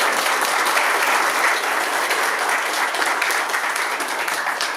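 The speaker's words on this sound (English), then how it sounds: "please give her a round of applause" An audience at a business event claps steadily throughout, a dense and fairly loud wash of many hands that holds even and then tapers slightly at the end.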